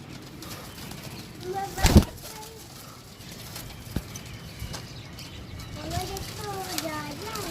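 Pigeons at a home loft cooing softly in the background, with a loud thump or flutter near the start and faint chirps and coos later under steady ambient noise.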